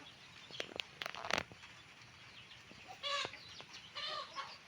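Fighting chickens squawk and cluck in sharp bursts, with scuffling and wing flaps, moderately close amid faint background noise.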